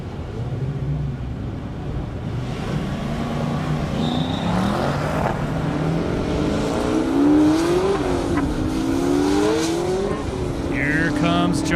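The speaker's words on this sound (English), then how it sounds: "69 Camaro trying to get a little better run than 192." A 1969 Camaro and other cars race on a half-mile airport drag strip in Indiana, with engines roaring and revving through rising and falling gear sweeps at a distance and some tire squeal, under a commentator's voice.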